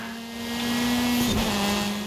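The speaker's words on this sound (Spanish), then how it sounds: "haciendo drifting" A car drifting in the Forza Horizon 5 racing game gives a steady, close engine drone over road and tire noise. The pitch dips briefly partway through the slide, and no one speaks.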